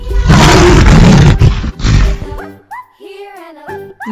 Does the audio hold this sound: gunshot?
no